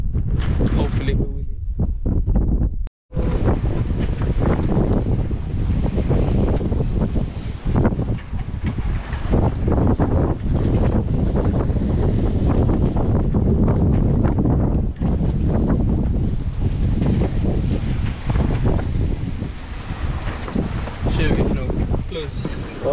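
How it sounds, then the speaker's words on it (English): Wind of nearly 30 knots roars continuously across a sailboat in heavy weather off Cascais, buffeting the microphone in a loud, unbroken rush with a brief cutout early on. "going to get like 30 knots of wind, which we are almost doing now"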